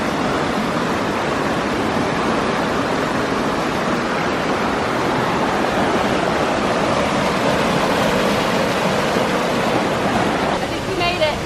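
Water rushing steadily along a creek bed near a waterfall in Pai, on the Mae Hong Son Loop in Thailand, a loud, constant broadband roar with no breaks, heard close by throughout.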